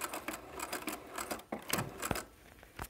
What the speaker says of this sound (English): take a couple stitches, switch hands here, back stitch